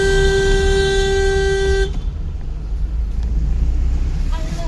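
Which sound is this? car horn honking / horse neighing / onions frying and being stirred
car horn honking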